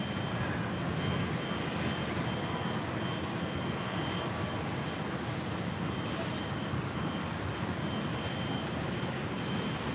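Cathay Pacific Boeing 777-300ER jet departing LAX on its way to Hong Kong, a steady broadband engine roar holding constant throughout at a distance.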